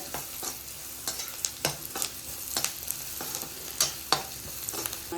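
Chopped onions and tomatoes sizzle as they sauté in a pan over medium flame for a quick chutney kulambu, with steady frying crackle and repeated scrapes and clinks from a stirring spoon close by.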